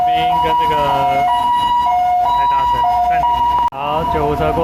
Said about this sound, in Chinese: 救护车过去了